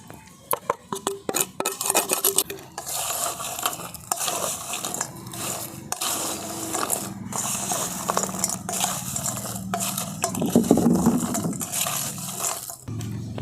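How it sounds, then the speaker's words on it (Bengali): Homemade semolina and potato Kurkure snacks being tossed with spices, giving a steady crisp rustling and crunching with clicks from the bowl, close and fairly loud throughout, with no talk. "দেখুন মশলাগুলো সমস্ত আমি এই কুরকুরের সঙ্গে মিশিয়ে নিয়েছি।"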